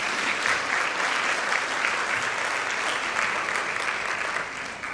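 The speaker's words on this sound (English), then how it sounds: "I think that deserves a bit of a round of applause." A dinner audience at the 10th anniversary Women of Faith event bursts into steady, even applause that holds without a break, heard at a moderate distance.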